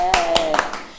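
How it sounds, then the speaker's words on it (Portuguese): A few scattered handclaps ring out at a church service, four or five distinct sharp claps over a second, thin and sparse rather than a full ovation, with faint voices behind. "Uma salva de palmas."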